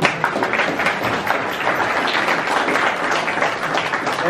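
Audience applause at an exhibition opening marking 80 years of the Toonder studios, a dense, steady wash of many hands clapping at moderate distance for several seconds.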